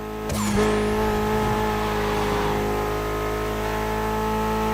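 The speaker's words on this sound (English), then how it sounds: "Mitsubishi gave us a nice inline four-cylinder with already 280 horsepower." A Mitsubishi inline four-cylinder rated at 280 horsepower, driven in The Crew Motorfest, starts up with a brief crackle and then holds a loud, steady engine drone with strong harmonic tones throughout.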